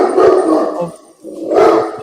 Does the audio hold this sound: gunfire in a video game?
no